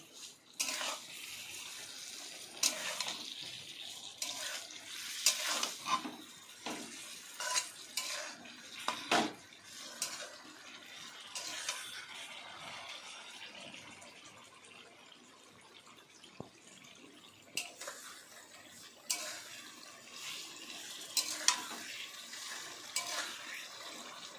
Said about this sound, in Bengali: বন্ধুরা, এবার আমি এভাবে ক্রমাগত নাড়তে থাকব।